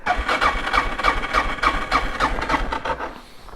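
Dual sport adventure motorcycle engine cranking at full throttle, a rapid rhythmic chugging of the starter turning the engine over, close by and steady, without catching or any talking.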